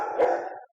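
A dog indoors gives a single drawn-out bark that trails into a howl-like whine, close and moderately loud, then cuts off to silence.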